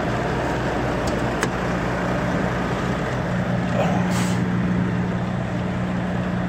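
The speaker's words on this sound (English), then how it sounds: "I'm just gonna release the tractor brakes, leave the trailer brakes locked" Semi truck tractor air brakes releasing with a brief sharp hiss over the continuous rumble of the idling diesel engine, close by.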